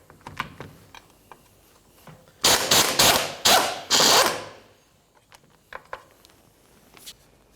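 Power tool, likely an impact wrench or drill, removing drive shaft bolts on a 2004–2015 Nissan Titan: several loud, close bursts of whirring in quick succession, with scattered small clicks and taps before and after.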